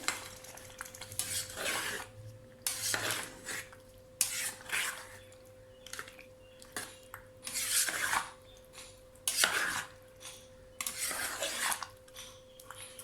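A spoon scrapes and stirs through spinach mutton curry in a cooking pot after kasuri methi goes in. Repeated scraping strokes come in bursts about every second or two over a soft background sizzle, close and moderately loud.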